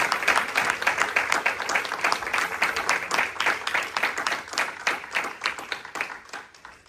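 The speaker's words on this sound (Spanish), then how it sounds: "vamos a darle un fuerte aplauso al Padre, al Hijo y al Espíritu Santo" Congregation applause in church at Iglesia Maná de Vida: many hands clapping with distinct, roughly rhythmic beats standing out within the crowd noise, fairly loud and gradually thinning toward the close.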